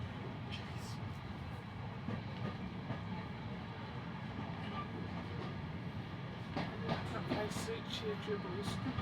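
A passenger train hauled by a class 55 diesel locomotive rumbles along with continuous low-frequency rolling noise and faint clickety-clack, and people talk over it.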